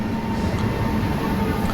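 The Double Decker Express train rumbles steadily at Bengaluru Cantonment station, a continuous close, low mechanical drone with a faint tonal whine above it.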